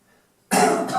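One harsh cough breaks out suddenly after a moment of near silence, close and loud.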